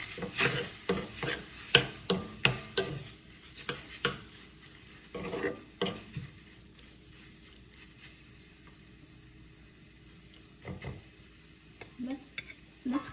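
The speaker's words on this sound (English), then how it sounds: "Give it a good mix." A spoon stirs an oil-free eggplant dish in a pan, with a quick run of close scraping and clinking strokes followed by a few slower, scattered ones and a soft sizzle between them.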